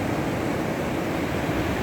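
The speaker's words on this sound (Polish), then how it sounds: "patrzcie jak tutaj przybija fala" Rough Baltic Sea waves break on the shore in a continuous, loud wash of surf noise with no distinct pauses or voices.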